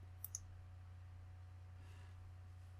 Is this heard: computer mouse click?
yes